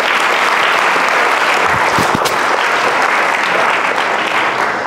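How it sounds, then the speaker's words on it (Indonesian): Loud, continuous applause from a large crowd of school students fills the whole stretch, with a few sharper claps standing out midway, at a motivational school talk. "Tepuk tangan buat semuanya."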